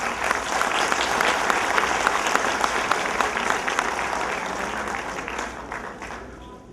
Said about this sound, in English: Let us all give a thundering applause to the teachers and the students.